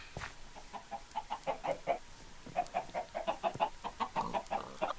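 Chicken clucking in the Minecraft Block Hunt minigame: rapid, repeated short clucks in uneven bursts, fairly close and moderate in level, with no talking.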